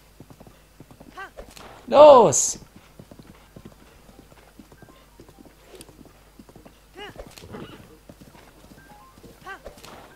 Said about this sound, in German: seitdem ich auf dem Pferd geritten bin